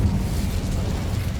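An Incendio fire spell cast in Hogwarts Legacy lets out a loud, rumbling whoosh of flame. It sustains a deep, explosive roar for its full length with no talk over it.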